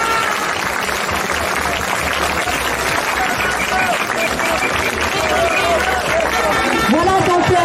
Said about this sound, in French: Un grand applaudissement bien chaleureux aux soignants, mais aussi à vous d'être là, bravo.